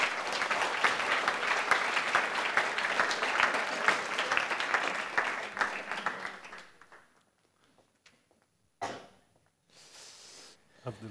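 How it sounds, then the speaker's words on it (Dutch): Studio audience applauding loudly and steadily for a guest author on a Dutch literary late-night talk show, then fading out around six seconds, followed by a few brief rustles and faint sounds. "Een hartelijk applaus voor Kader Abdolla"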